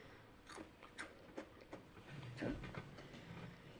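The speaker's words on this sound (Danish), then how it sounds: "Det var det helt rigtige knæk til en pebernød." Pebernød spice cookies crunching, a few short sharp crackly bites spaced about half a second apart, quiet and close, then a softer rustling chew.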